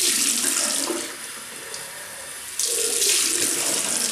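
Warm water runs from a tap into a bathroom sink while rinsing the face after a shave, a loud, steady close rush that eases briefly midway and then surges again.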